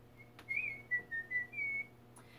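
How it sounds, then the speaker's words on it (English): Someone whistles a short, wavering tune of several clear notes while crafting faery balefire starters, fairly close and alone over a low steady background hum. "Whistle while you work."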